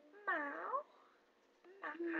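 A person imitates a cat, giving two drawn-out, whiny meows separated by a short pause, close and fairly quiet.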